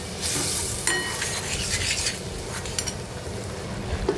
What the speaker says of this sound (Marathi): आता हे मसाले आपण व्यवस्थित परतून घेऊया